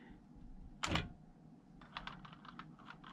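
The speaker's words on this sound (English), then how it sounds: "when you backspace, it just types over the letters." Wheelwriter 30 daisy wheel typewriter backspacing, one firm clunk of the carriage followed by a quick run of light rapid clicks, close and quiet in a room.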